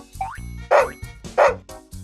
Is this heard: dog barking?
yes